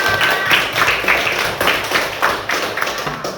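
A class of students claps together in a classroom, a loud, dense burst of hands with clustered rhythmic strikes, close and lasting the whole stretch.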